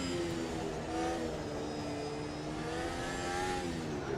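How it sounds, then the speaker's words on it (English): An F1 car engine in the Automobilista 2 racing game drones at high revs, a continuous buzzing whine with shifting pitch, loud and steady throughout with no voices. "like the sound of this F1 car"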